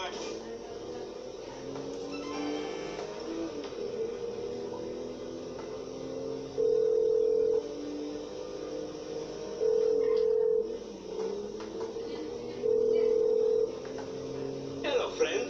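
Telephone dialing tones from a phone in the GTA V video game, several steady beeps repeating at regular intervals over a low game background, with talk heard alongside.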